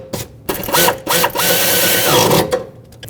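A ratchet tightens 10 mm alternator bolts on a 2012-2020 Nissan Pathfinder, giving close, loud bursts of rapid clicking, with short pauses between strokes.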